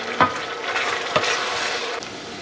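Bacon sizzles in a pan as its fat renders down, a dense, steady crackling hiss with two sharp utensil taps against the pan, close and fairly loud, no voices.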